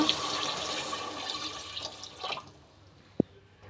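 Water pours and splashes steadily into a cooking pot of tomato and garlic curry, then tapers off into quiet with a single sharp clink near the end.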